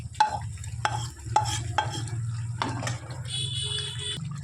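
Beef being stir-fried for a Kolkata-style kosha curry, with fried onion topping mixed in: repeated scraping strokes of a spatula in the pan over a soft sizzle, several distinct stirs close by.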